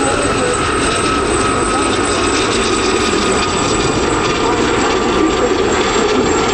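A Gazelle helicopter passes the display centre at the RAF Cosford airshow, its rotor and turbine giving a loud, continuous drone that holds steady throughout.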